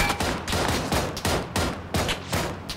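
Rapid gunfire from the battle royale video game PUBG: a dense string of sharp shots crackles in quick bursts, close and loud, with no talking over it.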